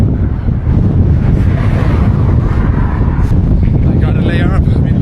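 Strong wind roars across the microphone while cycling along National Highway 314 in Xinjiang. The gusting rush is loud, close and continuous for the whole stretch.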